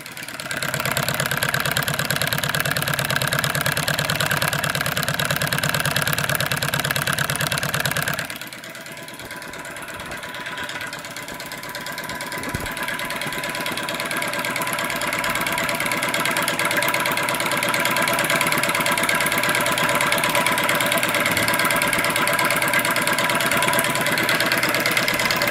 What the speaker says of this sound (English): This is an absolutely superb little engine.